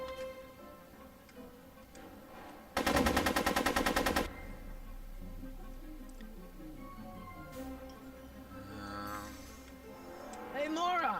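Rapid gunfire in Back to the Future: The Game, a loud burst of evenly spaced shots lasting about a second and a half, with game sounds and voices before and after.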